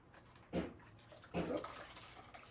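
Dirty cleaning water being poured out and changed while cleaning a kitchen: two short splashing gushes with running water between them, close by in an indoor room.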